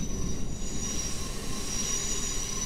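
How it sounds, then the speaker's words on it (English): A London Underground train in a video game creaks and squeals with a sustained metallic wheel screech over a low rumble, continuous and fairly quiet, with no voices. "I think that's the sound of my train creaking and just breaking down."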